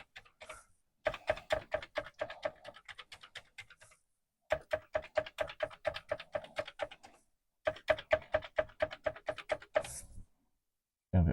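Keys on a Commodore 64 keyboard clatter in three fast bursts of rapid, even clicks with short silent gaps between them during a keyboard test, close and crisp with no voices.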